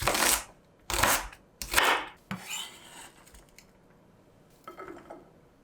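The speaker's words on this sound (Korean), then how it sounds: "샐러리도 다질게요" Knife on a cutting board mincing celery, fibers left in, for an American-style Hoppin' John: a few sharp chopping bursts close up in the first two seconds, then quieter scraping and occasional light taps.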